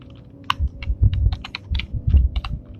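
Typing on a computer keyboard, a run of quick, irregular key clicks close by with soft thumps underneath, no voices.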